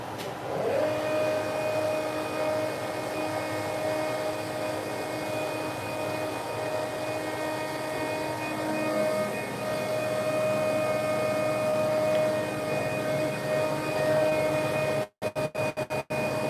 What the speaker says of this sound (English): Gotta turn the pump on.